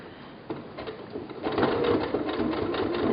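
A sewing machine stitching binding onto a bodysuit runs in a steady, close mechanical whir that picks up speed partway through and holds a fast rhythmic hum to the end, with no talking.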